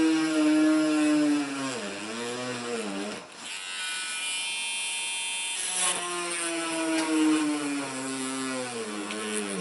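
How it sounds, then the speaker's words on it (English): A small high-pitched electric mini drill runs in repeated bursts, its whine dipping as the bit bores into a wooden model railway baseboard, with a short pause between holes. "drill holes through the baseboard"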